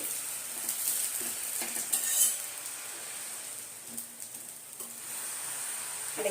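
Dosa roasting on a hot griddle, a steady close sizzle with faint soft scrapes and light clinks now and then, no talking.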